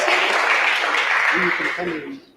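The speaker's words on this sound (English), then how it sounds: "Let's clap for the" An audience at an innovation pitch competition breaks into broad, dense applause for a presenting team, sustained and then tapering off toward the end.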